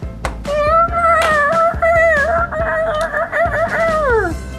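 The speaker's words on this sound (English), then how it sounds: "We have found a chicken." A white chicken clucks and crows loudly up close in a drawn-out, wavering call over a farmyard toy barn scene, with sharp clucks at the start and no voices.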